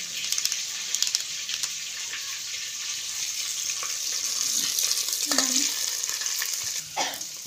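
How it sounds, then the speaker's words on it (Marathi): Chili powder, coriander powder and mutton masala frying in hot oil for a home chicken dish, a continuous sizzle with stirring clicks and a brief scrape or two, close and moderately loud, no talking. "मसाला चांगला थोडा तेलामध्ये मस्त फ्राय होऊ देऊ."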